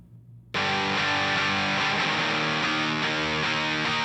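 After a short pause, a sustained electric rhythm guitar chord rings out through a Waves convolution reverb with a wide, lingering reverberant tail, holding steady for several seconds.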